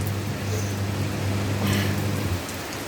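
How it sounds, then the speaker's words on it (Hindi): Steady monsoon rain pouring down in Daman, a dense, continuous hiss of drops on surfaces with a low rumbling undertone, loud and close throughout without any voices. "तो मैं आपको पहले बारिश दिखा देती हूँ दमन की ना, कैसी होती है यहाँ की बारिश का।"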